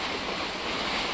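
Strong wind with heavy rain during a storm in Odisha: a steady, dense roar of gusting air and downpour, unbroken and without talk.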